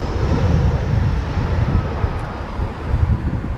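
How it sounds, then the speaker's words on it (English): An Airbus A319 landing in a gusty crosswind: a steady, loud broadband roar of jet engine and wind buffeting the microphone, swelling and easing throughout with no voices. "This Eurowing A319 struggled with the crosswind landing in the gusty weather."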